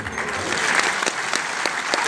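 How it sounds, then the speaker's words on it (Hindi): Crowd applause at a Congress party political rally in India, a steady patter of many hands clapping with sharper individual claps, moderately loud and unbroken, with faint voices beneath. "शीला जी ताली बजा रही हैं"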